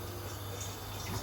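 Pimento berries being washed under running water: a brief, steady splashing rush from a tap, close and moderately loud, with no speech.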